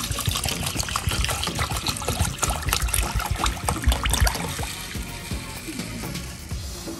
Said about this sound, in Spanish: Y para reposarlo le estaré agregando agua al arroz.